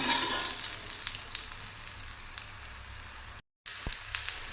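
A bottle gourd (sorakkai) dish cooking in ghee in a pan, a steady bright sizzle with scattered crackling pops, briefly cut by a moment of silence.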